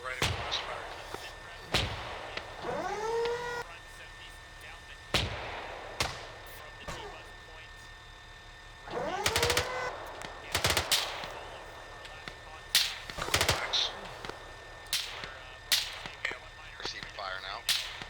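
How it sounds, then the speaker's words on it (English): Sharp, loud gunshots crack out in irregular single shots and short clusters during a military field training exercise outdoors. Speech and radio chatter sound between the shots. "Receiving fire now."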